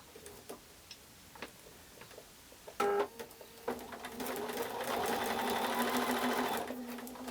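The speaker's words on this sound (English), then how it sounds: "So I can take this to the machine and sew this seam." A sewing machine stitches a quilt block seam, starting after a few soft clicks and handling noises, then running as a steady, rapid mechanical whir close by.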